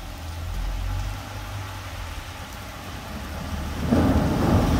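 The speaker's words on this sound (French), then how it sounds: "Les tonnerres des éclairs." A low rumble of thunder rolls through steady rain during a March hail shower, swelling louder toward the end.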